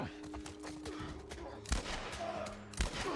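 Gunfire in the video game The Last of Us Part 1, two sharp loud shots about a second apart amid game ambience, with a voice speaking quietly underneath.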